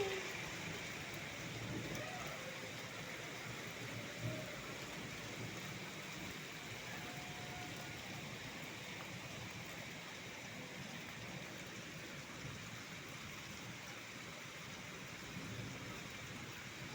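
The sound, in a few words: heavy rain falling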